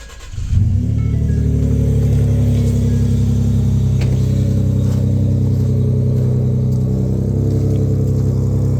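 A 2011 Ford F-150 with the 3.5 EcoBoost V6 and Banks exhaust is started and revved, a steady loud low rumble of engine and exhaust running throughout at close range.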